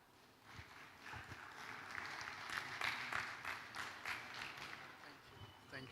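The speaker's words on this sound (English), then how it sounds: "Please, a round of applause for Mr. Adeyemi." Applause from a summit audience after a talk, a dense wash of many hands clapping, fairly distant and soft, swelling in the middle before easing slightly.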